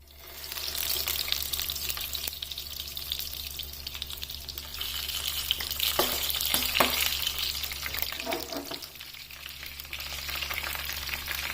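Stuffed capsicums fry in hot oil in a pan, a steady close sizzle with occasional louder crackles and scraping as the peppers are turned, over a low constant hum.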